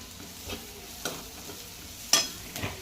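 Onions being sautéed with turmeric and garam masala: a soft, steady sizzle close by, with a few spatula scrapes and taps against the pan spaced about half a second apart.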